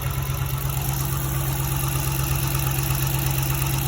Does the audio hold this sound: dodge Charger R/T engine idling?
yes